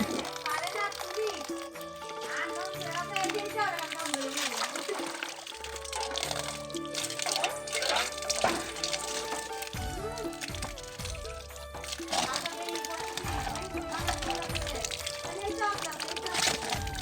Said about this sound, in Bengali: এখন এগুলো ধুয়ে নিতে দেখলাম যে আমাদের টাইম কলে জল চলে এসেছে তো টাইম কল থেকে ধুয়ে নিলে বেশিক্ষণ টাইম লাগবে না